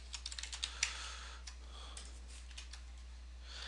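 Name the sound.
typing a search string on a computer keyboard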